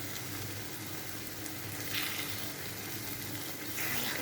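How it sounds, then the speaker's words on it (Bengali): Boiled lentils go into a hot pan with pointed gourd, and a steady, close sizzle of frying follows with faint stirring swells. "ওই সিদ্ধ ডালটা আমি এখানে দিয়ে দিই।"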